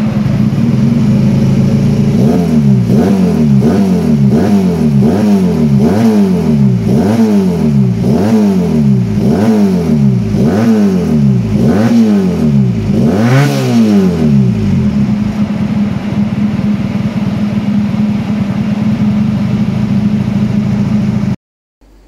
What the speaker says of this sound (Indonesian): proses gimana motor gua Revo 2 silinder itu di dyno